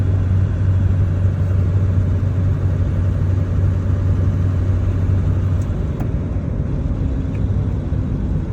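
Ford 7.3 Powerstroke diesel truck with 322,000 miles running steadily, a loud continuous low rumble heard from close by, alone without talk.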